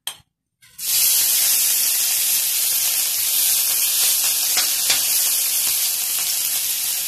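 Ginger hits hot cooking oil in a pan and breaks into a loud, steady sizzle right after a moment of silence, continuing close and alone while aromatics sauté for an adobo of sea shells and banana blossom.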